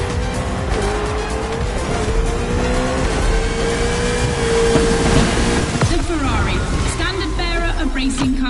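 Race cars roar in a video game, engines revving and shifting loudly and continuously with tyre squeal, while a voice talks over the action.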